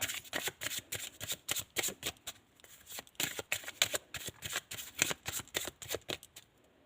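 A new moon oracle card deck is shuffled by hand in quick repeated riffling bursts with brief pauses, crisp and close, with no speech.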